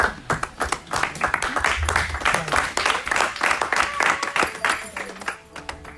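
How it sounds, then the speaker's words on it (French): A church congregation claps loudly for the glory of God, dense close applause with rhythmic hand claps and some voices mixed in. "Nous acclamons très fort pour la gloire de Dieu."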